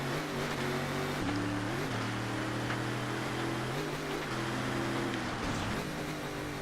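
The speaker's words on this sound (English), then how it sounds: "Engine sounds like it could have a problem" A continuous engine drone with shifting pitch as gears change, steady and loud, a synthesized Land Rover Bowler racing engine in ToCA Race Driver 2 rallycross, bogging down in second gear.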